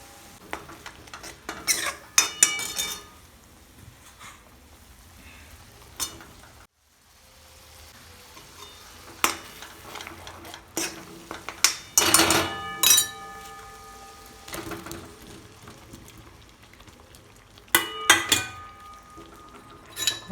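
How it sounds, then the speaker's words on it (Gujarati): A spoon scrapes and clinks against a pan while potatoes are stirred into gravy with coriander for bateta bhungla, in intermittent bursts of metallic clatter over a quiet background. "હવે આપણે એને સારી રીતે હલાવી લેવાની છે"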